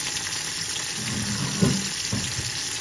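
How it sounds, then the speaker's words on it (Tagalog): Vinegar pours into a cooking pot of paksiw na saluyot with fish, an Ilocano dish, giving a soft steady liquid trickle and gurgle over a background hiss. "Tapos maglalagay na tayo ng suka guys."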